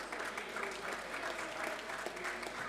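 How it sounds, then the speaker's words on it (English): Steady audience applause at a climate and youth farming event, dense clapping sustained evenly throughout at moderate distance with no pauses. "A round of applause, please, for Gia."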